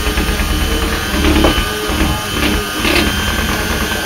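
Prune cake batter being beaten with an electric mixer in a bowl, a steady whirring, rattling drone that continues for the whole stretch with small surges as the beaters work through the mixture.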